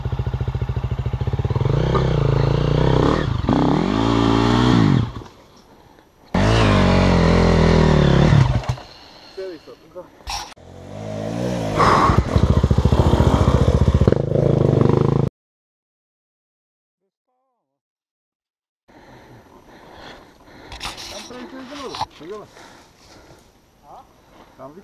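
A KTM enduro motorcycle revs hard and loud in bursts, then pulls away, with clattering and shouted voices over it, a quiet gap, and then more distant engine noise.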